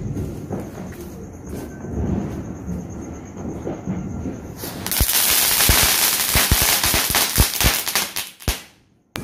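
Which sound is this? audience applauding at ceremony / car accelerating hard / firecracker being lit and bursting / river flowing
firecracker being lit and bursting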